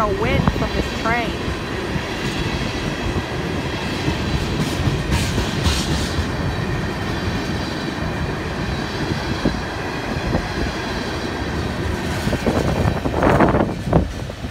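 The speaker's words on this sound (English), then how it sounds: "there goes train 202, or 206, pardon me" FEC freight train 206 thundering past at Stuart, a continuous close rumble of rolling cars with rhythmic wheel clatter and brief squeals, swelling louder near the end.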